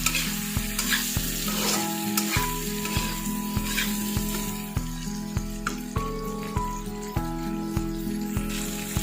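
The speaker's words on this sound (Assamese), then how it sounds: "এইটো ভালকৈ ভাজি ল'ম লৰাই লৈছোঁ মছলাখিনিৰ লগত" Chicken pieces fried with spice masala in a pan for a chicken and banana stem dish, with a steady sizzle and rhythmic scrape-and-clack of stirring repeating close by throughout, no talking.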